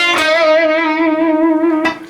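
Electric guitar lick, picked sharply and settling on one long sustained note with gentle vibrato, loud and close with no voice over it. A fresh pick attack comes in at the very end.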